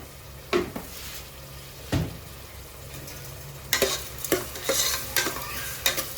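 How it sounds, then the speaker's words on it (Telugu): Onions fry in a pan for a chicken curry, a steady sizzle broken by several sharp scraping strokes of a spoon stirring against the metal, clustered toward the end, close and clear with no voices. "ఈ ఉల్లిపాయలు అయితే బాగా ఎర్రగా వేగి తీరాల్సిందే"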